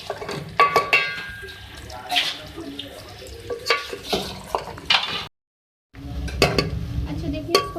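Potatoes fry in a pot for a beef aloo korma, with repeated scraping and clinking stirs, a soft sizzle beneath, and a brief gap of silence partway through.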